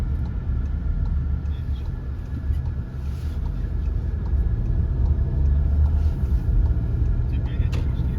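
A car travels along the Sevastopol–Yalta highway on Crimea's southern coast, with a steady low road rumble and wind noise filling the cabin throughout and growing slightly louder near the end.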